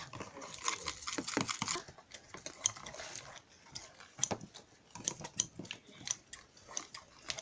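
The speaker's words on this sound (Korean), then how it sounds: "가위로 지금 액기를 자르고 있어요." Scissors snipping through melted, sticky homemade slime, producing a run of soft, irregular clicks and squelchy cuts, close up and fairly quiet with no talking.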